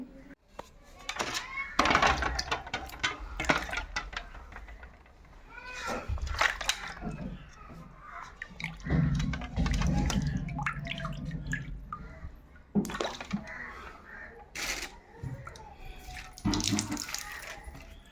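Water splashes and drips as fresh fish are cleaned by hand, with uneven washing and rubbing sounds up close; a cat meows intermittently nearby.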